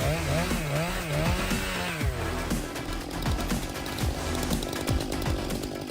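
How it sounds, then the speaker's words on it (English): A Stihl MS 661 chainsaw with a 28-inch bar and a 7.3 hp engine revs loudly and close, its pitch rising and falling, then bogs into a steady, rattling growl as it cuts through huge chunks of wood. "This chainsaw is a force to be reckoned with, expertly navigating through huge chunks of wood, leaving a trail of efficiently cut wood in its wake."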